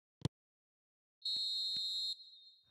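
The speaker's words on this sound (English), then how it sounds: "And there goes the final whistle." A referee's final whistle in a football video game sounds as a single sustained shrill blast lasting about a second, preceded by a brief thump, with no talk over it.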